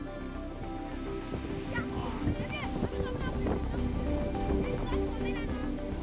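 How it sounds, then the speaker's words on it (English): Gusty wind buffets the microphone at the edge of a tropical forest in Côte d'Ivoire under darkening storm skies, a steady rushing roar with voices faintly mixed in. "갑자기 돌풍이 불면서 하늘이 시커멓습니다."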